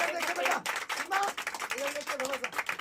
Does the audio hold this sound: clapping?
yes